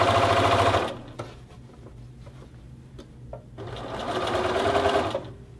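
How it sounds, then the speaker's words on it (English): A sewing machine runs a back-stitched seam along the front edge of a hoodie hood, loud steady whirring in two bursts with a quieter pause of small clicks and handling between them. "just begin sewing back stitch, and I'm just going to sew the entire front of the hood"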